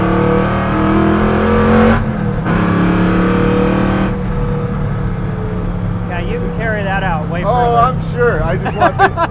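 A 1966 Ford Mustang pro-touring build with a swapped Coyote V8 accelerates hard, its loud, steady engine roar droning underneath as people in the car talk over it.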